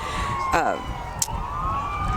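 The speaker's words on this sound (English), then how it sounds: "fire engines and police cars to get started down here" Emergency sirens from fire engines and police cars rolling in a Fourth of July parade in Akron, wailing steadily through the clip with a rising sweep near the start, over crowd murmur and street ambience.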